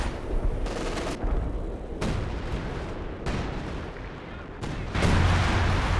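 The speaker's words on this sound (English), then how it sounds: "Thought it might have been some base howitzer fire from Future, but no. 105 artillery." Barrages of 105 artillery fire in the video game Company of Heroes 2, a steady rumble of distant booms and crackling blasts in several bursts, growing louder toward the end.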